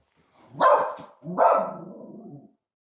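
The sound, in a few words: dog barking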